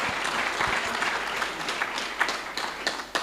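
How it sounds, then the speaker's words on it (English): Audience of staff and students at a university event welcoming a U.S. ambassador in Mbarara, breaking into broad, continuous applause, a dense wash of many hands with a few sharper individual claps standing out near the end. "Give yourselves a big round of applause"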